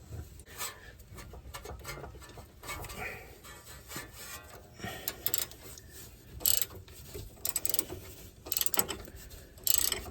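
Ratcheting wrench turning a 15 mm nut on a Jeep XJ sway bar link: rapid ratchet clicks in irregular bursts, close and moderately loud, with some metallic clatter between strokes.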